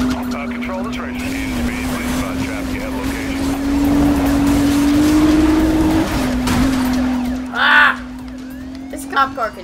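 Police car in a video game roars along with a steady droning engine and skidding tires, then a crash bang near the end, loud and close, with talk over it.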